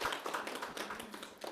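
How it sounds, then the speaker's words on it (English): Applause breaks out at a Toastmasters club meeting for the best-speaker award winner, a faint, brief patter of a few hands clapping in a room. "Please give a round of applause for her."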